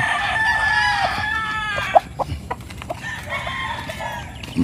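A rooster crows nearby, with clucking from other fowl around it in a poultry breeding setting, followed by a few sharp knocks and softer clucks.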